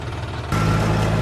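A John Deere tractor engine running on a farm, a steady low diesel rumble that jumps abruptly louder partway through, close and continuous without talk.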